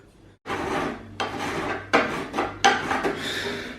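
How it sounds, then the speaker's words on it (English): Old body file rasping across a steel repair section, five or six scraping strokes in quick succession, close and fairly loud with no talking. "I'm actually just using an old body file here,"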